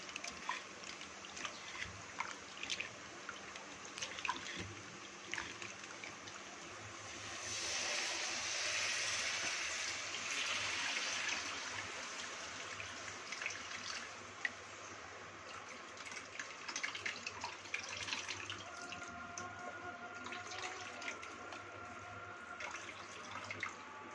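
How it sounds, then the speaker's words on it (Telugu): Soaked tamarind water pours into a pan for a fish curry, a steady splashing stream swelling louder in the middle, then tapering into light trickles and drips. "చింతపండు పులుపు ఆల్రెడీ నానబెట్టుకున్నాం కదా ఇది వేసుకుందాం"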